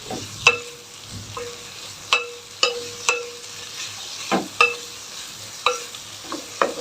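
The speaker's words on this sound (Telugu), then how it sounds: "ఇప్పుడు వామాకులు యాడ్ చేసుకున్నాం ఇందులోకి" Ajwain leaves cooking with a pinch of hing in a pan for rasam: a spatula scrapes and clinks against the pan in repeated sharp strokes over a low, steady sizzle, close and fairly loud.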